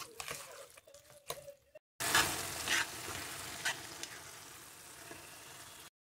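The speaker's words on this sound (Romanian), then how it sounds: "Amestecăm și voi prăji un pic bostanul." Pumpkin fries in a pan with cinnamon and citrus zest, with a few soft clinks before a loud, steady sizzle starts and carries on with crackles and spatters.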